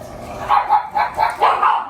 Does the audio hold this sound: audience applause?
no